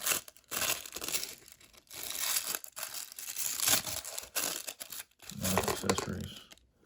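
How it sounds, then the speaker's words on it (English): Tissue paper being pulled and crinkled out of a Star Wars Vintage Collection toy boxed set, close and crisp rustling and tearing in uneven bursts with brief pauses, with someone speaking quietly in between. "tissue paper. Let's see what's in here."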